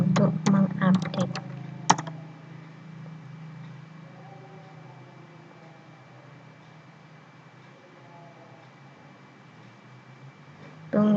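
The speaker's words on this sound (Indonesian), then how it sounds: "Kemudian kita ketikkan apt update untuk mengupdate." A quick burst of computer keyboard keystrokes typing a Linux update command on a Debian 12 setup, a handful of close clicks in the opening two seconds, then a low steady hum of room noise.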